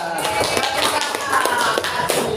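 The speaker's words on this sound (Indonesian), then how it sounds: "tepuk tangan. Tepuk tangan." A class of students applauds during a teaching simulation, irregular claps and taps spread across the short stretch with a faint voice underneath, fairly close and steady.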